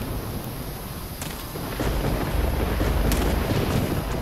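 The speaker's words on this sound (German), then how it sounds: "Weil es ist draußen Gewitter," Thunderstorm in the video game Risen, with a steady roar of rain and wind and a deep thunder rumble building in the second half, plus a couple of sharp crackles.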